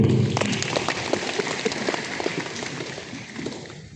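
Audience clapping at an Islamic boarding school institutional-strengthening forum at a university hall in Mataram, a dense patter of many hands filling the room, steady for several seconds and slowly thinning toward the end.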